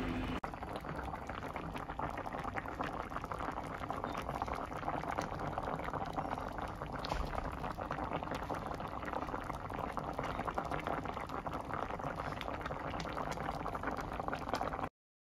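Ginataang tilapia simmers in coconut milk, a constant bubbling, gurgling boil that stays even and fairly soft from start to finish, with no talking.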